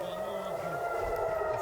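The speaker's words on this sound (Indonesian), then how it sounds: "Suara alarm terus berbunyi hingga petugas damkar tiba di lokasi." A siren-like alarm keeps sounding after a missile strike that set a car ablaze in Holon, Israel, its steady wailing tone running through the whole stretch under background noise and what seems to be talk.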